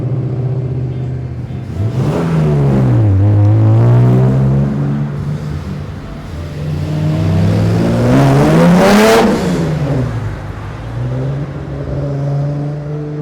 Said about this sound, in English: the exhaust note really bounces off the walls of the houses.